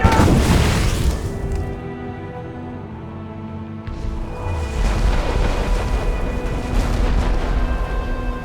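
Ship cannons firing in the Assassin's Creed Rogue video game: a loud, heavy boom opens, then a deep rolling rumble and further thunderous blasts fill the rest.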